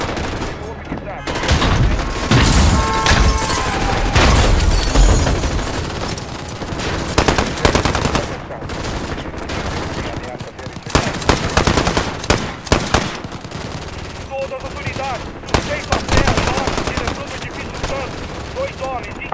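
Weapons firing in Call of Duty Modern Warfare, with repeated bursts of gunfire and sharp single shots scattered across the stretch, loud and close.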